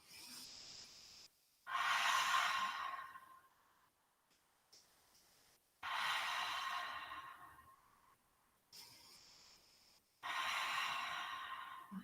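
Slow, deep breathing during a lying spinal twist in a yoga class, heard as three long, airy, hissing breaths with quiet gaps between them, soft and close, with no talking.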